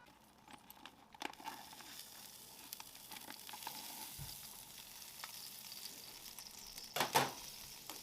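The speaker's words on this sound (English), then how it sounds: "let's give it a little sear" Sous-vide pork tenderloin sears on a Blackstone griddle with a faint, steady sizzle and scattered light crackles, swelling into a louder burst near the end.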